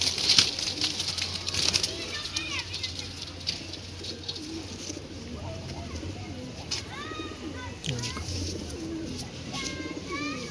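Pigeons coo softly at a pigeon sale amid a busy mix of bird calls and occasional wing flutters, with faint voices murmuring in the background.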